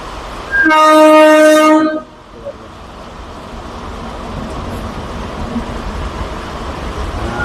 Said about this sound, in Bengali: আর ওই দিকে একটা থ্রু ট্রেন ক্রস করছে